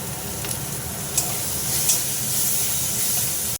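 Spice paste of ginger and green chilli sizzles and fries steadily in a pan, a close, continuous hiss with faint stirring scrapes.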